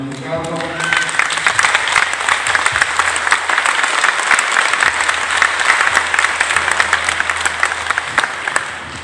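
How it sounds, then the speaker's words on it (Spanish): A church congregation at a Corpus Christi gathering claps steadily and loudly for the outgoing representatives, a dense sustained round of applause from a crowd close around. "Les damos un aplauso que se termina su cargo"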